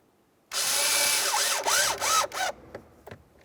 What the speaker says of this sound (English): continue on with your 3 mounting screws